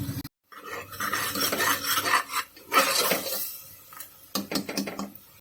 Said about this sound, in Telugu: మసాలాని పచ్చివాసన పోయేంత వరకు వేయించుకుందాం